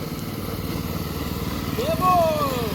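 Small motorized drift trike engine runs steadily with a buzzy, motorcycle-like drone, rising in pitch near the end as it revs; talk is mixed in.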